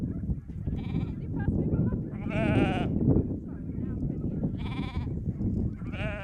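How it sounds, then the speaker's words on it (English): Sheep, lambs and ewes bleating in repeated loud calls during weaning on a Falklands farm, over a busy flock murmur with voices in the background. "We're weaning our lambs"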